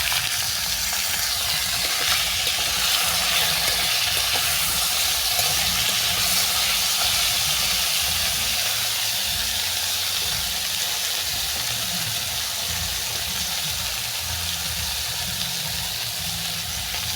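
Potatoes frying in hot oil that already holds dried red chillies and cumin seeds, a loud, continuous sizzle with steady hiss throughout, no voices.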